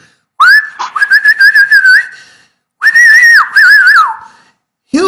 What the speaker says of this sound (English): this is how humans whistle.